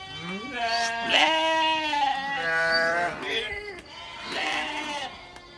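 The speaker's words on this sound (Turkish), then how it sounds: "Arkadaşlar bunlardan annelerden ayırdığımız kendi kuzularımız." Lambs separated from their mothers bleating in a village barn, several overlapping wavering calls close by, with someone talking over them.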